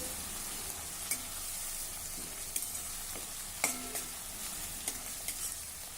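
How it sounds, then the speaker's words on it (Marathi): Kharda chili paste stir-fries with onion for an okra dish, a quiet but steady sizzle with occasional soft scrapes and clinks of a spoon in the pan, close by and with no one talking. "हा खरडा देखील दोन मिनिटासाठी परतून घेऊ"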